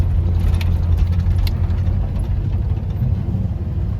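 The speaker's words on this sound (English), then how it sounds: "It's running and driving pretty nice right now." A 1990 Dodge W250 Power Ram pickup on a test drive, its engine giving a loud, steady low drone with cabin rumble and a few brief clicks, no one talking.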